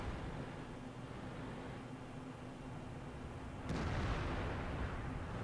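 Tank cannon fire in World of Tanks rides over a steady rumbling battle bed: one sharp, loud shot lands near the end, followed by a lingering boom.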